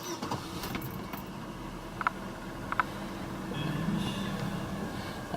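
A 2001 Chevrolet Malibu with just under 340,000 kilometres is started, with small clicks and a brief jangle before the engine catches and settles into a quiet, steady idle.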